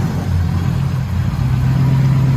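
A Chrysler 300C with a 6.4-liter engine, headers and Flowmaster Outlaw exhausts, supercharged and freshly tuned, rumbles loud and close with a deep steady idle that swells slightly as the throttle opens.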